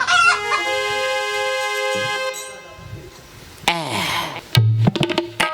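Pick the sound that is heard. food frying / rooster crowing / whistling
rooster crowing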